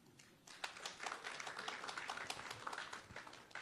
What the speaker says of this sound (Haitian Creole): On applaudit Tidjo, s'il vous plaît.